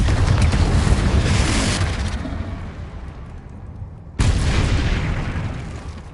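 A Confringo spell in Hogwarts Legacy on PS5 erupts in loud booming blasts, a roaring explosion that fades over a few seconds before a second heavy blast hits abruptly, close and powerful with no talk.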